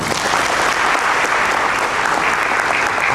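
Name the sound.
applause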